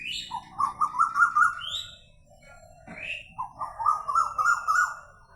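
Several birds call in spring. Repeated trilling chirps come in two bursts, with brief higher whistled notes in between, over quiet background hum and no speech.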